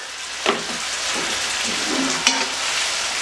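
Meat sizzling as it is stir-fried in a wok, a steady loud hiss of frying with a few sharp clinks and scrapes from stirring.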